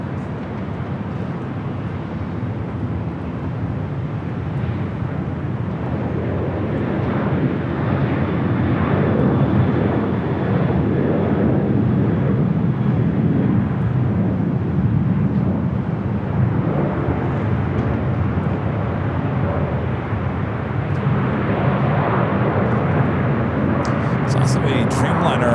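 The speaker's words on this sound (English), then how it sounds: "Should be followed by a 737 MAX 8 coming from Phoenix." Southwest Airlines Boeing 737 MAX 8 arriving from Phoenix and landing at LAX, a steady broad jet roar holding at moderate level throughout, with continuous background noise of the airport setting.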